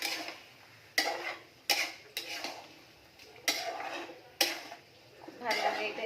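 Spoon stirring spices in a cooking pot: a handful of sharp metallic clanks and scrapes against the pot at irregular intervals, fairly close, with quieter rustling in between.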